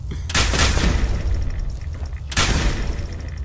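Gunfire rings out at an enemy in Fallout 4, with two loud bursts of rapid shots, the first lasting about a second and the second arriving after a short pause, each with a booming low tail.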